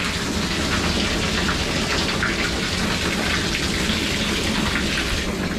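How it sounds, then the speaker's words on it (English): A pump pushing a heavy flow of water while draining a fish tank, a constant dense splashing rush like pouring rain, loud and close with no voices. "This is obviously a lot of water flow though."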